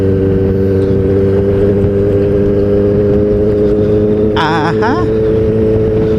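Kawasaki ZX-4RR motorcycle engine droning steadily while riding, a close, constant low hum with wind rush throughout, a brief voice cutting in near the end.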